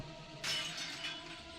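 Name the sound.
mirror shattering against a wall, visual novel sound effect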